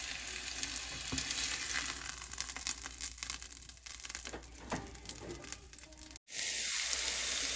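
Stuffed chicken sizzling steadily in a pan, a continuous crackling fry with occasional stirring and scraping, ending in a brief cut and a louder, steadier hiss.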